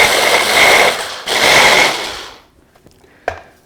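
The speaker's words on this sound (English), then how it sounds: "turn it to high speed, and then just pulse it a few times" An immersion blender's chopper attachment pulses shredded coconut at high speed: two loud whirring bursts back to back, then a quiet pause and a small clunk.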